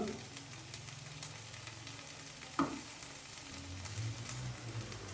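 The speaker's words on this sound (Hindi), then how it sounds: "अभी हम इन तीनों सब्जियों को हल्का सा मजीद फ्राई कर लेंगे हाई फ्लेम पे 2 से 3 मिनट के लिए" Carrots, peas and capsicum fry over a high flame in a pan, giving a steady, close sizzle with a sharper scrape or clack partway through and no voices.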